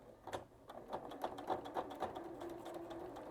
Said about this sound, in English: So now I'm just going to sew it all the way down